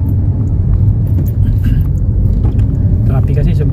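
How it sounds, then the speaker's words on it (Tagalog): Heavy road traffic makes a dense, continuous rumble of car engines, loud and close, with a voice faintly present over the steady roar. "Traffic kasi sobra."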